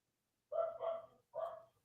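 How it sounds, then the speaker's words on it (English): A dog barks three times, with two barks close together and a third after a short pause, heard at moderate volume over a silent background. "My dog's barking her head"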